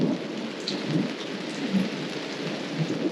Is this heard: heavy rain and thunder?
yes